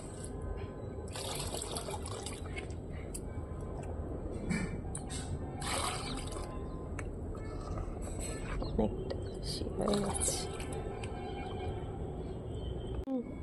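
Water pours and splashes as it is drained from a tub planted with lotus, a steady close liquid gurgle with scattered drips, under a person talking quietly throughout.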